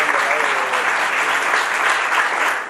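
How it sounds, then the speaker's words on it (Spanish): Sustained audience applause fills a church general-session hall, dense and steady from start to finish before easing slightly at the very end. "le damos un fuerte aplauso"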